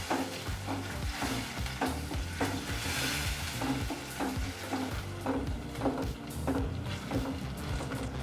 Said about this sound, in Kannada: ಹೀಗಿಲ್ಲಿ ಒಂದು 2 ನಿಮಿಷಗಳ ಕಾಲ ಮೀಡಿಯಂ ಫ್ಲೇಮಲ್ಲಿ ಟೊಮೊಟೊ ಹಣ್ಣನ್ನು ಫ್ರೈ ಮಾಡಾಯಿತು.